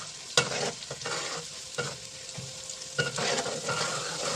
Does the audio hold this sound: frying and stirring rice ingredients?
yes